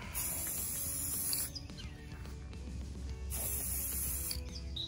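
An aerosol can of spray paint hisses in two long bursts as it coats a planter, the first starting almost immediately and the second starting near the end, with quieter handling in the gap between them.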